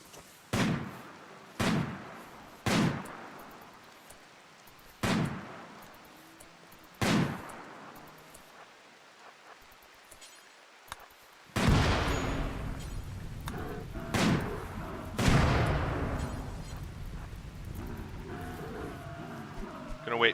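Gunfire from colonists hunting boomalopes in a colony video game. A series of sharp, evenly spaced single shots is followed by heavier, rumbling blasts near the end, loud and close, with no talking.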